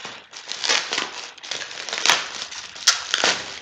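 Bubble wrap packaging crinkles and crackles close by in busy, irregular bursts with occasional sharper pops, handled continuously without any talking.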